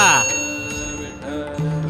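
A notification bell sound effect for a subscribe reminder chimes with bright ringing tones that decay, followed by a lower sustained tone near the end, with no talk.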